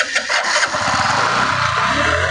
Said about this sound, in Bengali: এখন আমি স্টার্ট দিই, সেলফ দিয়ে দেখি বাইকটা স্টার্ট হয় কি না।